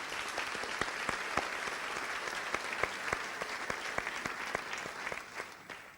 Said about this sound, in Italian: salutiamo Cecilia con un applauso.